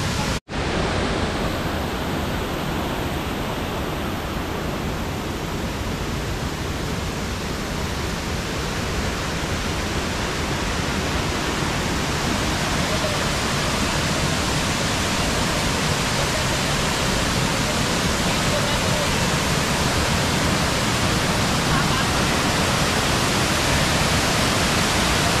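Water pours steadily at Kil Kila waterfall in Madhya Pradesh, a dense, continuous roar of rushing flow coming off the hillside, loud and close with no break for the whole stretch.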